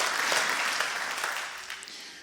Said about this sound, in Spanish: Sí, eso merece un aplauso.